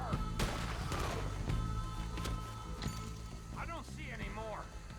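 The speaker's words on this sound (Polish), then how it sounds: "Jeden niecelny strzał." A single gunshot from Red Dead Redemption 2 cracks sharply near the start, with a fainter later report, while game characters talk over the scene.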